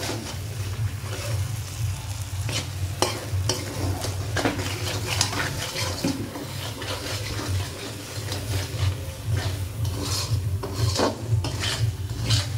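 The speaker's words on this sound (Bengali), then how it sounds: "ভালো করে মশলাটাকে আমরা কষাবো আলুর দমে।" Spice masala for a potato curry with garam masala, Kashmiri chilli powder and sugar is stirred and sautéed in a pan, a close rhythmic scraping and rasping over a soft sizzle with no speech.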